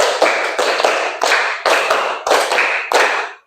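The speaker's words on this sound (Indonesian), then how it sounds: "tepuk 2, tepuk 3, tepuk 4, tepuk 5, tepuk 5 2 kali" A class of students clapping a counted rhythm pattern together in an Islamic religious education lesson: sharp, loud group claps in distinct bursts, roughly six grouped beats with brief gaps, close and unaccompanied by talk.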